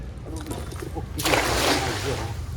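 A fishing net is cast from a small country boat into a Kerala backwater for river prawns, landing with a broad, close splash that swells and fades over about a second, with someone talking before and after.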